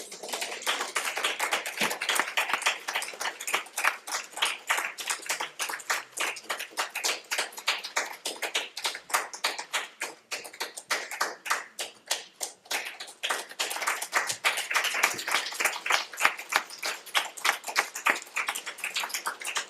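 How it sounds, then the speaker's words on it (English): Audience applause after a talk, heard as a crisp, fairly close patter of many individual hand claps, steady and lively for the whole stretch with slight swells and dips in intensity. "So we applaud the message and we applaud the messenger."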